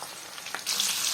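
Onion and tomato frying in a pan as filling for Egyptian falafel give off a continuous soft sizzle that swells louder midway, close and with no voices.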